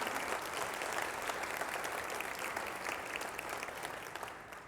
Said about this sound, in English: How about a great round of applause for these folks that change lives every day?